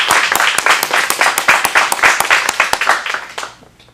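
Close, loud clapping from an audience at an adult acting-studio showcase, crisp individual claps in a quick uneven rhythm that fades out after a few seconds.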